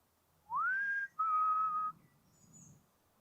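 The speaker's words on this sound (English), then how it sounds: "Can anybody whistle?" A person whistling two short clear notes during a paranormal investigation, the first sliding upward and the second held steady, close and distinct against a quiet background.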